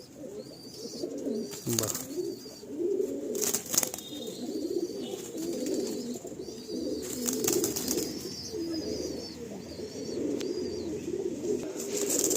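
Andhra pigeons released in pairs at a Kolkata loft coo repeatedly close by, with soft wing flaps and rustling between calls and a short spoken exclamation.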